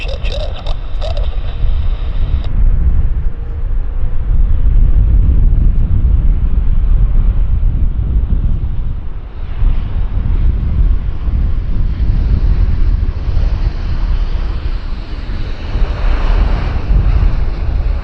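A passenger airliner landing at Vancouver Airport, heard as a loud, steady roar of engines and rushing wind from start to finish, blustery and close to the microphone, with no voices.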